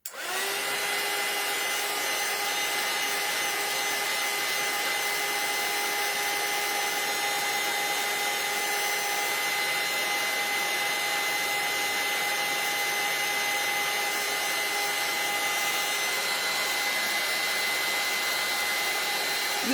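A hair dryer blows steadily at close range for the whole stretch to dry glue on a craft piece, a continuous whirring hiss with no pauses and no talking.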